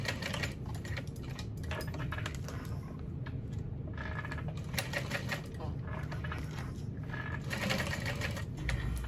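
A sewing machine runs a short back-and-forth box stitch on a strap of a Betty Bowler bag, a dense steady mechanical clatter lasting throughout, close and busy.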